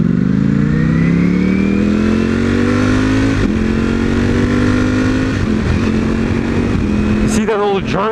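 Motorcycle engine revving and accelerating through gears with quick-shifter shifts, a loud steady drone with rising pitch and brief dips at each shift, ending in a sharp rev change; speech is mixed in.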